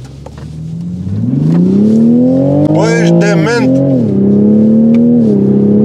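A Toyota Supra with the manual gearbox engaged accelerates hard from close range, its engine note rising steadily through the revs with a brief gear change and a tire chirp, while people in the car talk and shout over it.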